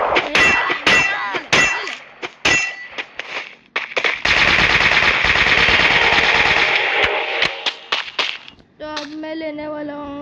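Free Fire SMG fire: a few sharp single shots, then a sustained rapid burst of about four seconds, followed by scattered clanging impacts and a ringing tone at the end.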